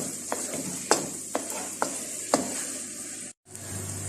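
Minced meat keema fries in a pan, giving a steady sizzle with several distinct scraping strokes as it is stirred. A brief silent gap falls near the end before the sizzling resumes.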